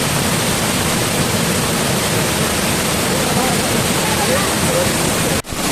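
Beema Falls in the Javvathu Hills, a forceful waterfall in full October flow, pouring as a loud, dense, unbroken roar that fills the whole stretch before a sudden cut at the end.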